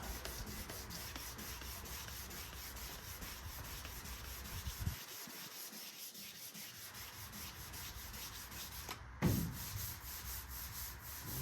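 A sanding block rubs back and forth over a paint run on a car panel, giving a steady, close, continuous scratchy swish with one brief pause and a small knock near the end.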